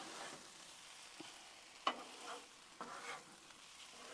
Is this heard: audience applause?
no